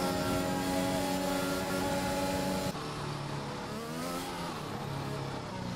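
F1 race car in a video game on a qualifying lap, a loud, continuous high-revving engine whine with shifting pitch, changing tone sharply partway through, with no talk over it.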